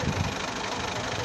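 A tractor engine runs steadily at close range, a dense continuous rumble with a slightly knocking, idling character throughout.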